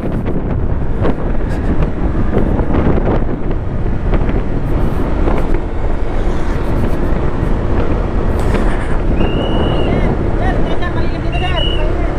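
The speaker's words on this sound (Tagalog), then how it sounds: "Malakas ng hangin." Strong wind buffets the microphone in a constant loud roar, with faint voices and distant traffic underneath.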